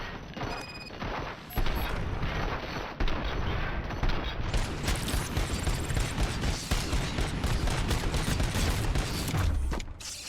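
Gunfire in the video game RoboCop Rogue City is a dense, continuous clatter of shots and mechanical impacts lasting about ten seconds, with sustained rattling from many weapons.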